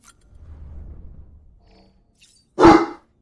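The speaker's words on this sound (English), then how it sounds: "Girl, who's you barking at?" A dog named as a female pet gives a single sharp, loud bark near the end, after soft low rumbling and quiet handling sounds.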